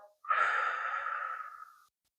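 A single long, deep exhale through the mouth, breathy and steady for well over a second, made while lying prone and pressing up with locked elbows in a low back extension exercise, close and alone without talk.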